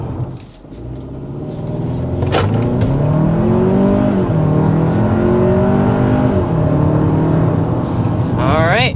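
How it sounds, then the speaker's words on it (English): A 2024 Hyundai Santa Fe Calligraphy with the 2.5 turbo engine accelerates hard from inside the cabin, its loud engine note climbing in pitch through several gear changes. "we're going to go ahead and start with a hard acceleration"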